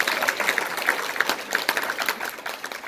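A lecture audience claps to welcome the speaker, a modest, uneven patter of hands with distinct individual claps, moderately loud and without talk.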